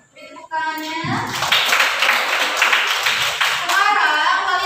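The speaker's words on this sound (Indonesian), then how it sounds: "Beri tepuk tangannya." Children in a classroom break into clapping after a short stretch of a voice, with brisk, fairly close applause that continues to the end while voices rise over it.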